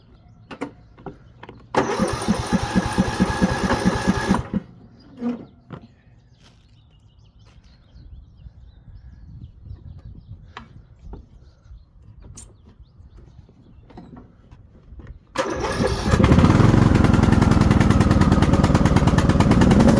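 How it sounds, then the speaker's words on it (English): A Craftsman DLS3500 lawn mower engine sputters briefly, falls quiet with small clicks and handling noises, then catches and settles into a loud, steady idle that runs to the end. "let me see if I remember how to turn this lawnmower on"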